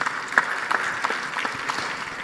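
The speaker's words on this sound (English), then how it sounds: "could we give President Macron a warm round of applause" Audience applause at an African energy summit conference session, a short stretch of scattered, moderately loud clapping from a seated crowd in a hall.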